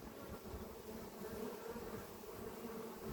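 Honeybees buzz steadily around an open Dadant beehive while they store pollen in the frames, a dense, even drone of many wings close by with no talk over it.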